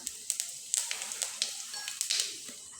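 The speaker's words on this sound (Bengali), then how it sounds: "কড়াইয়ে দুই টেবিল চামচ তেল ব্যবহার করলাম হাফ চামচ জিরা ব্যবহার করলাম" Half a spoon of cumin seeds sizzles in two tablespoons of hot oil in a wok, giving a close, steady hiss broken by sharp, irregular pops and sputters.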